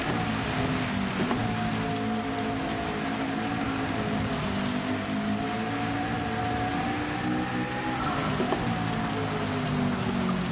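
Steady rain hiss blends with a droning racing-car engine while a Gr.3 race car drives a wet track in a racing video game, with smooth gear and pitch shifts under the continuous patter.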